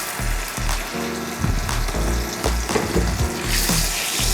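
Butter and olive oil sizzle steadily in a hot pan, a continuous loud crackling hiss with a few clattering knocks of utensils or pan, no talking.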